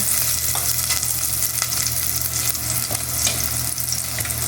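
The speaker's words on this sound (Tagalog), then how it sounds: "Medyo nag-brown na yung ating sibuyas at saka bawang." Onion and garlic frying in a pan as they brown, a loud, steady sizzle and crackle with occasional stirring scrapes, continuous and close with no talking.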